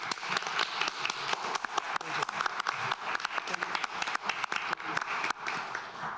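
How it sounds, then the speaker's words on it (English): An audience at a town board meeting applauds, steady dense clapping from many hands that carries on for several seconds, moderately distant in a room. "let's clap for you"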